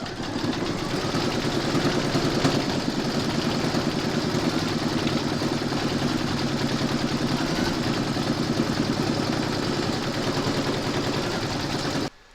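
An embroidery machine sews a satin stitch border around a fabric door tag, giving a steady, rapid, loud mechanical chatter that runs without pause and cuts off abruptly at the end.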